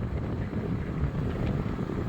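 Steady, dense headwind roar buffeting the microphone while riding an ASKMY U15 MAX with an 18Ah battery, continuous and fairly loud throughout with low rumbling gusts.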